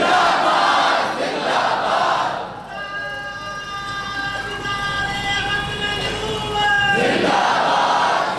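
In a mosque, a congregation at a Quran study gathering answers together with a loud chanted slogan. Two crowd bursts bracket a stretch of sustained tonal sound.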